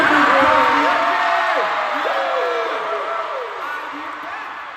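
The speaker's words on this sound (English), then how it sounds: "So big round of applause." A big concert crowd at a world tour show in Newark keeps up a steady roar of cheering, screams and whoops. It fills the arena loudly and tails off slowly while a voice comes over the top.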